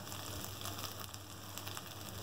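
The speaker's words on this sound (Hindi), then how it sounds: "फ्राई करेंगे, अच्छी तरह से भूनेंगे।" Minced meat with ginger-garlic paste frying in a pan, a steady, continuous sizzle and crackle heard alone with no voices, holding even in level throughout.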